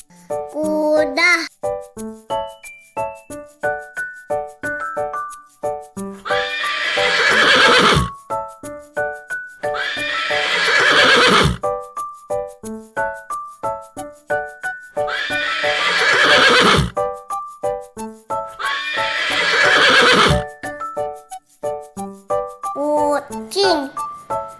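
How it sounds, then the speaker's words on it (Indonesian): A horse gives four loud, drawn-out whinnies at regular intervals, set against a bouncy tune with clip-clopping hoof beats and a voice in between. "Kuda,"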